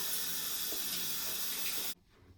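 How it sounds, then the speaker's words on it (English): Tap water runs steadily into a bathroom sink while a face is rinsed, a close, broadband splashing hiss that continues for about two seconds and then cuts off abruptly, leaving near silence. "So now I'm just gonna rinse this off"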